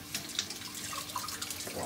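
Tap water runs steadily into a kitchen sink as hands are washed after slicing peppers, a continuous splashing stream with small drips and splashes, close by and without talk.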